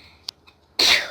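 A single sharp, close sneeze bursts out after a few faint clicks and a brief quiet lull, heard during a Stumble Guys gaming session.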